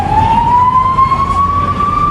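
An emergency siren wails after a Hezbollah rocket strike in Israel: one loud, close, steadily rising tone over low traffic rumble, with no voices.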